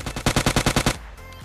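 Automatic weapon fire in PUBG Lite, a rapid burst of about eight loud, evenly spaced shots lasting under a second, then a quieter tail with faint distant noise.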